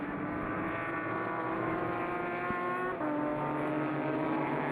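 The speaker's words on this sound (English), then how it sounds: "a gaggle of cars now through turns 1 and into turn number 2 here" Race cars at a NASA national championship GTS race, including a Porsche 944, drone loudly through a pair of turns, several engines layered in a continuous high whine with shifting pitch and a sharp click midway.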